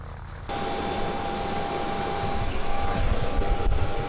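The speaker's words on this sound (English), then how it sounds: "It's a jet there, just making a horrendous noise." Loud, steady roar of a jet aircraft engine at Quebec City, close by and swelling slightly louder, with a high whine running over the low rumble.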